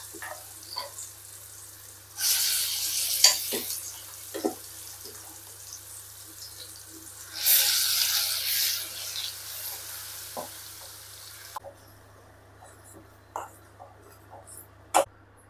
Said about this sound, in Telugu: ఇప్పుడు ఆయిల్ బాగా కాగిందండి. ఈ మిక్సీకి వేసిన పేస్ట్ ఇందులో వేసేసుకుందాము.